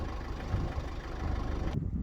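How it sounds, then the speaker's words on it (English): A car engine idling steadily after a Revive Auto Spray carbon-cleaning treatment, a low continuous hum with a faint mid-range drone, moderately close, with no speech, cutting off abruptly at the end. "we just can let the engine idle"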